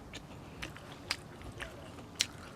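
Someone bites into and chews a crunchy fresh white guava picked from a garden, giving a few sharp crisp bites followed by soft close-up chewing, quiet and without speech.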